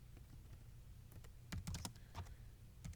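Quiet, irregular clicking of keys on a computer keyboard, with a few quick bursts of faster typing, nearby and soft.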